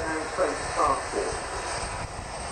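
A Lockheed TriStar jet makes a flypast at the Royal International Air Tattoo, a moderately loud rushing engine roar that swells and fades under the voice of a commentator.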